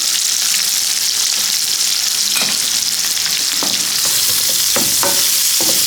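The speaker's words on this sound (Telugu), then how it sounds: "ఆయిల్ వేడి కాగానే పచ్చిమిర్చి వేసుకుందాం. తర్వాత ఆనియన్స్ని వేసుకోవాలి." Green chillies and onions frying in hot oil in a kadai, a loud steady sizzle with occasional stirring scrapes and clinks, close up and without talk.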